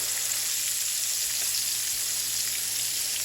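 Floured beef liver fries in a pan with a loud, steady sizzle. The dense crackle stays close and continuous throughout, with no talking.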